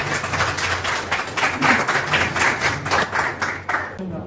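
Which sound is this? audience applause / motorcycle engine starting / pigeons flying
audience applause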